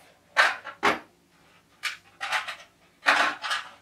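Rustling, clattering handling of a Robens folding wood camp stove as it is unpacked, in several short, close bursts separated by brief pauses.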